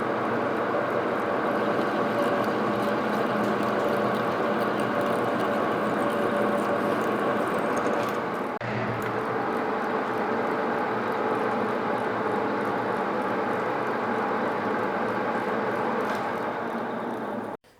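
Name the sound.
lathe machine cutting a screw thread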